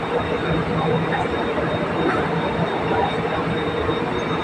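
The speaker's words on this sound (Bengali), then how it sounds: "ট্রেন চলে এসেছে" A Singapore MRT metro train rumbles loudly and steadily close by as it arrives at the platform, a continuous roar of wheels and motors with faint metallic whine, voices faintly mixed in.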